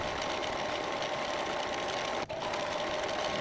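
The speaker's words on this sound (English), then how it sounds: "I'll probably do that right now on my sewing machine." A sewing machine finishes the edges of dyed Aida cloth with a steady, close, whirring hum, broken by one brief pause near the end.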